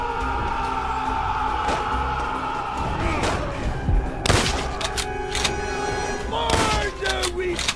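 Gunfire in a World at War video game cutscene, sharp bursts and thuds breaking over a busy battlefield din, with a heavier volley near the middle and more shots toward the end, voices mixed in the chaos.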